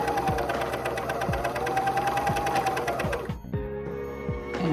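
Juki MCS 1500 coverstitch machine stitching fabric, a fast, even mechanical chatter of needle strokes running steadily and close, then shifting to a slightly different, lighter whir near the end.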